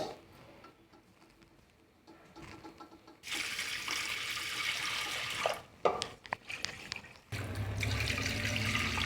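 Lentils are rinsed in water in a home kitchen, with sloshing, swishing and the patter of poured water in uneven bursts, quiet at first and then louder and fuller.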